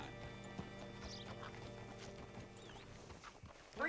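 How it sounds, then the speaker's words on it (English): Horse hooves clip-clopping in Red Dead Redemption 2, a quiet, steady series of hoof strikes against a low ambient background, with a soft rise in noise at the end. "Hitch your horse up here."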